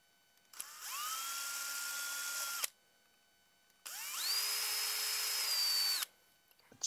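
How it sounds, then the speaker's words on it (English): Micro drill bit boring a starter hole, running in two steady high-pitched bursts of about two seconds each with a short pause between, close and loud, alone without talk. "now one of these very temperamental micro drill bits"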